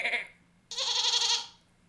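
A person imitates a goat bleat in a short, wavering nasal call, close to the microphone, following a brief earlier vocal burst.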